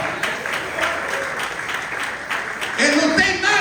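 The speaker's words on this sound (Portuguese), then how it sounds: "Pode aplaudir." A church congregation at a Brazilian family service applauds, with dense, steady clapping that swells louder toward the end while voices call out over it.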